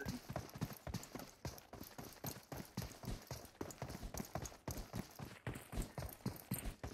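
Horse hooves clip-clopping in the mobile game PUBG Mobile, a steady rapid gallop of close, even hoofbeats running throughout with no talk over it.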